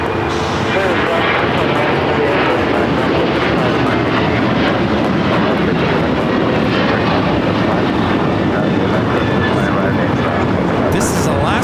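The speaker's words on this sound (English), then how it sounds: "This is Alaska Airlines 1418 taking off to Guadalajara on the 737-900ER." Loud, sustained jet roar from an Alaska Airlines Boeing 737-900ER taking off at LAX, continuous and rumbling throughout, with voices talking over it.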